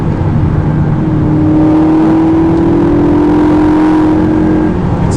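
A McLaren MP4-12C travels at about 200 km/h through relatively tight lanes, heard from inside as a loud, steady engine drone with a rising whine and strong road and wind roar.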